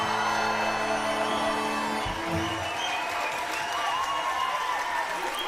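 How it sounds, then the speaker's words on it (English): A live crowd at an Irish accordion performance bursts into applause and cheering, dense clapping with whoops continuing loudly after the music cuts off. "Crowd loving it"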